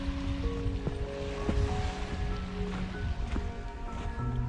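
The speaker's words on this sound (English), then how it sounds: "Just a nice wee noise off the sea." Steady wash of sea waves at Cushendun with a constant broadband rush and faint tonal hums and ticks mixed in.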